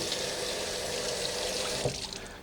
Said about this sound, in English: Just rinse it off a little bit.